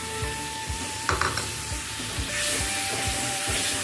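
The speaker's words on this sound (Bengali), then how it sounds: "এবারে আলু টমেটো মশলা সব ভালোভাবে কষিয়ে নেব" Potato, tomato and spice paste sauté in a pan for kasuri methi aloo dum, a steady sizzle broken by regular rhythmic scrapes of a spatula against the pan.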